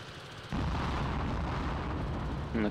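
A bomb strikes its target in Operation Flashpoint: Resistance: a sudden loud blast erupts after a brief quiet and trails into a sustained, roaring rumble.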